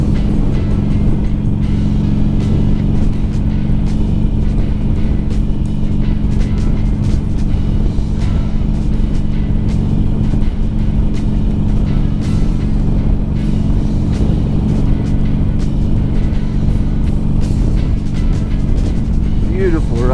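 Motorcycle riding along a slightly wet, windy road in the Black Hills of South Dakota in winter, a steady loud engine drone and heavy wind rush filling the whole stretch without a break, with a voice talking over it.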